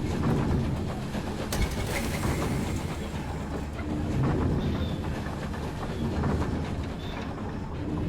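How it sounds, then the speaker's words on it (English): A train passes in the video game Night in the Woods, a continuous rumbling clatter of rolling railcars, fairly loud and close throughout with a faint cooing bird in the background. "The train."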